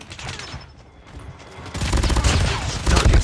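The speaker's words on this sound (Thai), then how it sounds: "นี่แหละอ่าปืนที่มันลั่นเร็วนะ กระสุนมันจะหมดเร็วกว่าปกตินะทุกคนนะ" Fennec submachine gun firing rapidly in the mobile game Call of Duty Mobile, quiet at first and then a loud dense stream of fast shots, close up, with game sounds mixed in.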